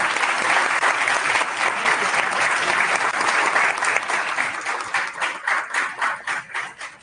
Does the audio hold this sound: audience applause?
yes